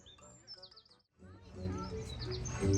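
Small birds chirp and tweet in short, high bursts at Peppa Pig Theme Park Florida, fairly faint, with a brief pause before a busier stretch of chirps and background noise.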